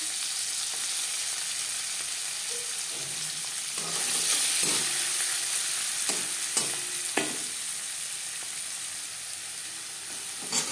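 Chopped onion fries in hot mustard oil with a steady close sizzle, broken by several sharp spatula scrapes and clinks against the pan as it is stirred. Nobody speaks.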